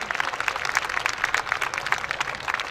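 An audience claps together at a gathering, a dense, continuous patter of many hands with uneven swells, close and fairly loud throughout.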